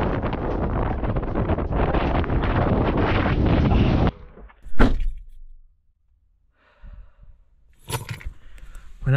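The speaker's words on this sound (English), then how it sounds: "it is so windy" Loud, roaring wind buffets the microphone for several seconds in the Scottish Highlands, then drops away to quieter gusts, thumps and rustling.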